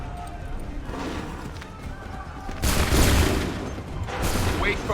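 A musket volley in the Assassin's Creed 3 video game: a broad, loud crackling burst roughly halfway through, followed by a second, smaller burst, over battlefield noise and shouted commands.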